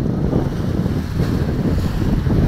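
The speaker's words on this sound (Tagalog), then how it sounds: "Lakas mo ng hangin eh o." Strong typhoon wind roars and buffets the microphone over crashing sea waves along the Navotas shore, a loud, continuous rush with no voices.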